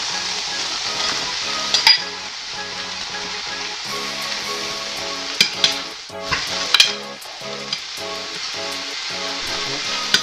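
Pork for lechon kawali sisig fries over medium heat in a pan, giving a loud, steady sizzle broken by the scrape and clatter of repeated stirring, close and without talk.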